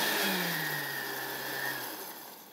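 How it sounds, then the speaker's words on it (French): A kitchen blender whirs steadily while mixing cream for a lamb cutlet dish, a continuous motor drone with a slight pitch drop as it runs, alone with no talk. "c'est parti pour un bon coup de mixeur"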